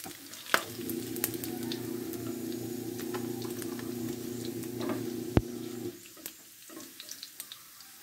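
Pork belly (liempo) sizzling in a pan as oil is drained off, a loud, steady hiss with sharp clinks and scrapes before it drops to quieter crackles near the end.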